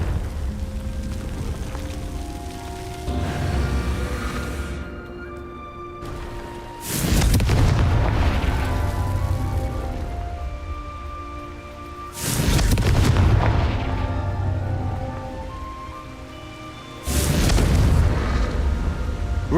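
Confringo blasting spells explode in Hogwarts Legacy inside a mine: four loud booming blasts spaced several seconds apart, each with a sharp onset and a rumbling tail over a low ambient drone.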